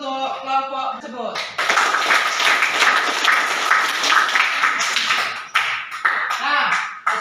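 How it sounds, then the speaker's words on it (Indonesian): A classroom audience claps for a presenting group: a dense, sustained burst of many hands clapping that lasts several seconds and fades near the end, with a voice briefly heard before and after. "Oke, sekali lagi kita berikan aplaus untuk kelompok tersebut."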